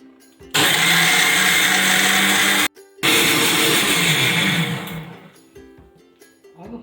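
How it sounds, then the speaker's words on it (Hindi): A mixer grinder jar blends lassi with ice cubes in two loud whirring bursts separated by a short pause, the second run winding down to a stop. "एक बार मिक्स कर लेते हैं थोड़ा मिक्सर जार में।"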